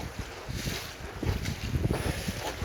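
Wind gusting over the water while wing sailing, buffeting the microphone in uneven rushes with splashy, rumbling surges, no voices.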